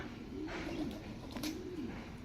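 Pigeons returning to their loft in the late afternoon, soft low cooing calls repeating in two rising-falling phrases, fairly near over a quiet outdoor background.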